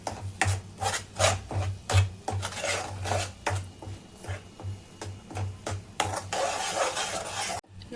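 A metal spoon scrapes and clinks against a pan in an uneven rhythm as masala roasts in ghee, with the stirring loud and close and no one speaking.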